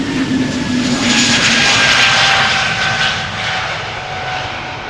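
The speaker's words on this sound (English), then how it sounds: "Starting off with this A320neo to London Gatwick, EasyJet flight 28675." A brand-new EasyJet Airbus A320neo's jet engines roar steadily at Schiphol Airport, a loud, broad, continuous rumble with a faint whine on top, no voices.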